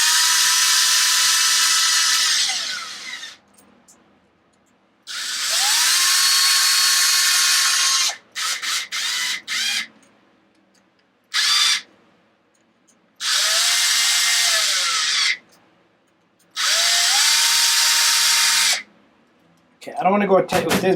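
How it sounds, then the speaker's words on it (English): A handheld power drill whirs in repeated bursts of a few seconds each, with short trigger pulls between the longer runs, during work on a Traxxas XO1 RC car's plastic front differential cover. "I'm going to take my drill here."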